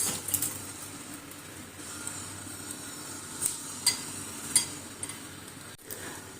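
Green spices of tomato, garlic, ginger, green chilli and onion hit a hot pan with a steady soft sizzle, punctuated by a few sharp clinks of a utensil against the pan.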